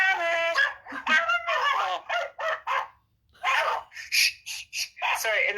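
Puppies give several short, high yips and barks in quick bursts, mixed in with people talking nearby.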